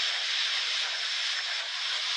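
Steady broadband roar of an Alpha Jet's jet engine in the DCS World flight simulator, loud and constant, with no voices.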